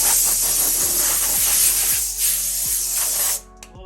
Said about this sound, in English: We'll get our air compressor.